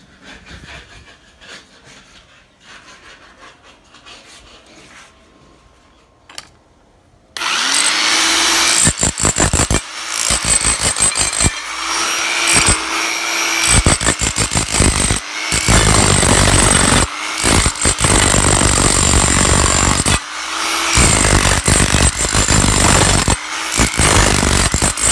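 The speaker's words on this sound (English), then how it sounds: "Chipping out these tiles." A power tool chipping out old floor tiles starts abruptly after a quiet opening, then runs loud and harsh in repeated bursts with brief pauses, close up and without talk.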